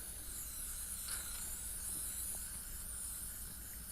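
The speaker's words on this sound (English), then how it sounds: "Just spray it on there good." Mosquito repellent sprays from an aerosol can onto a car headlight, a steady close hiss that runs unbroken and fairly faint for the whole stretch, with no talking.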